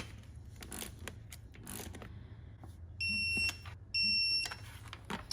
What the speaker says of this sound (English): I like that torque wrench because it doesn't just beep, it also gives you a little zzz.